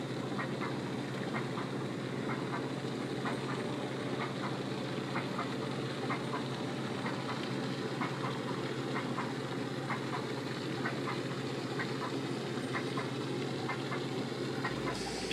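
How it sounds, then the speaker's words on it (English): The vintage engine of the classic yacht Westward runs underway in Southeast Alaska, giving a steady, fast mechanical ticking over a continuous low drone, like a sewing machine, with no voices. "Her vintage engine sounds like a sewing machine."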